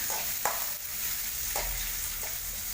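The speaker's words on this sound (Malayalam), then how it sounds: "ഇത്രയും കൂടെ അതിനകത്ത് ഒഴിച്ചിട്ട് ചെറുതായിട്ടൊന്ന് വഴറ്റണം." Onion and green chilli sautéing in oil in a pan for kaathoran, a continuous close frying hiss broken by a few brisk stirring scrapes.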